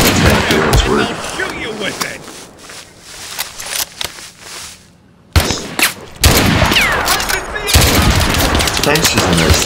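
Gunfire and heavy booms fill a trench warfare video game battle, with bursts of shots and tank fire coming close and loud, then a brief lull before the barrage resumes.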